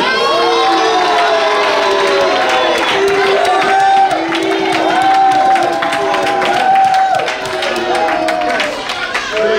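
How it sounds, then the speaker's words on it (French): A large crowd at a church conference cheers and shouts loudly and continuously, with scattered clapping mixed into the roar. "il y a des gens qui sont en train d'applaudir"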